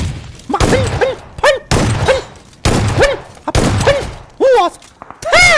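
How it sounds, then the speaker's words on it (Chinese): Bursts of Groza assault rifle fire in the shooter game Game for Peace, several loud rapid volleys separated by short pauses, with excited voices cutting in between. "直接拿出狗砸来一波火力压制"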